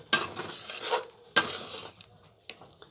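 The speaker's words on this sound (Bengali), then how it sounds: "এবার আমি এটা ভালোভাবে একটু নাড়তে থাকবো।" A spoon scrapes and stirs a thick chholar dal mixture in a pan, two firm rasping strokes followed by a softer, shorter one, close and without voices.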